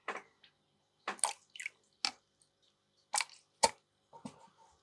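Water scooped from a small nano reef aquarium, heard as a sparse series of crisp drips, splashes and sloshes, close by and separated by silences.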